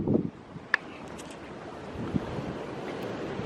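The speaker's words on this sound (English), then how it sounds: "It is windy." Gusty wind buffets the microphone outdoors at a fiberglass sunroof install on a vehicle, a low rushing roar with a brief thump or two, fairly quiet and without speech.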